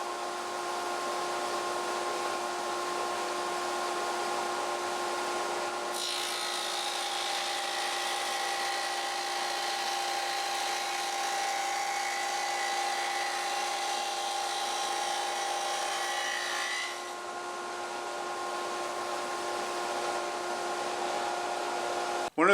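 A Shopsmith with a dado stack cuts a dado in wood for a Stickley Highlands bookshelf: a steady motor whine rises into a loud, continuous cutting roar for about eleven seconds, then settles back to the idle hum.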